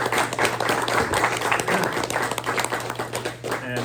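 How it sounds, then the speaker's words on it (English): An audience at a press luncheon claps for three players, a moderately loud burst of irregular clapping that fluctuates in intensity over a low steady hum. "So please let me hear a round of applause for these three players."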